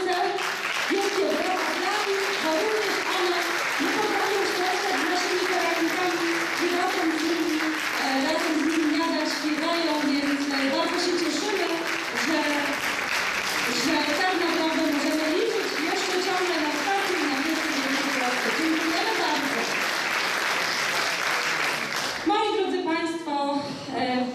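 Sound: applause at Christmas concert

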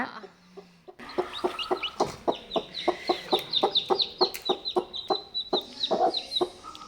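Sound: hen clucking near hatched chicks

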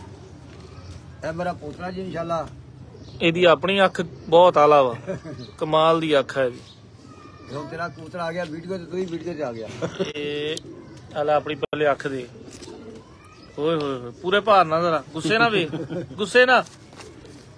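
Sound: pigeon cooing

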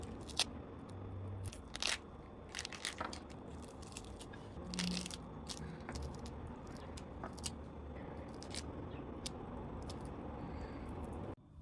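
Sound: seeding pomegranates by hand

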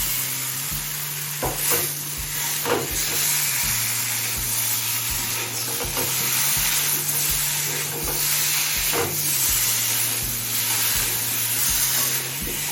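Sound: hilsa fish head frying in a pan with elephant foot yam

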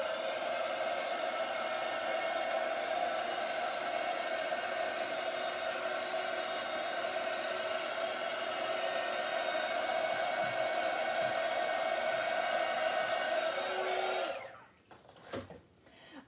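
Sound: heat gun blowing on poured paint

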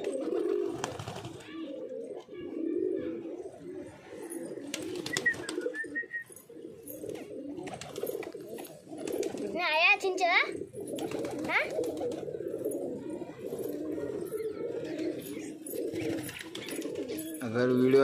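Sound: pigeons cooing

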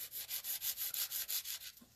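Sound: 100 grit file filing a nail

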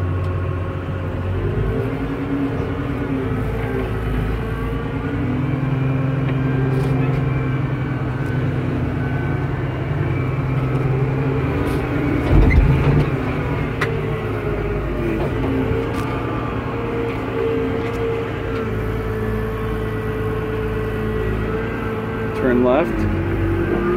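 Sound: tractor with bucket driving through mud

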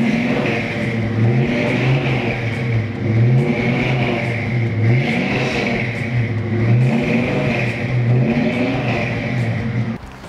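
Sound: Ford 289 V8 engine revving

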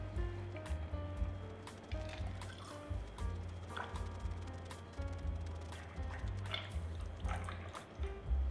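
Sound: pouring Blood and Sand cocktail into a glass

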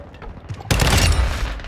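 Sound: gunfire in Call of Duty: Modern Warfare II video game

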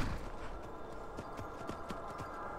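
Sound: horse hooves clip-clopping on a trail in Skyrim video game

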